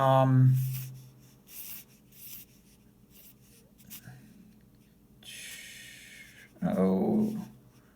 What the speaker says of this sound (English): Let's see if I can draw this.